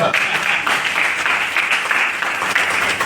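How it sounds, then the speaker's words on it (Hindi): An audience at a basic training talk breaks into dense, continuous clapping, a steady wash of many hands lasting about three seconds, loud and close. "ताली बजाओ इस बात पे"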